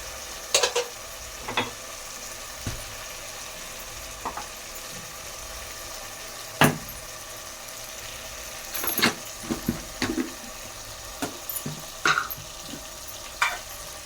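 Vegetables being stirred and sautéed in frying oil, with scattered scrapes and clinks of a utensil against the pan over a faint, steady sizzle, the sharper strokes spaced a second or two apart.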